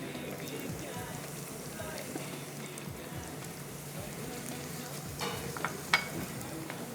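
Green chilies and garlic fry in a pan while being stirred, giving a soft steady sizzle with scraping stir sounds and a few sharper clinks near the end.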